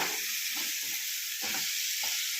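Potato pieces sauté in a hot oiled pan, a steady loud sizzle with several short bursts of stirring scrapes as the pieces are turned.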